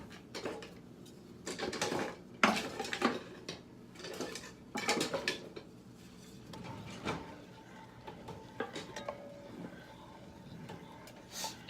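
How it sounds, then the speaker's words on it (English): A utensil stirs seafood alfredo sauce in a pan, giving repeated clattering scrapes and knocks against the metal in irregular bursts that grow sparser toward the end, close by and with no voices. "You do need to stir it."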